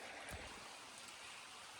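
Water in Briar Creek flows strongly at a hiking-trail crossing, a soft, continuous wash of rushing water heard quietly throughout, with no voices.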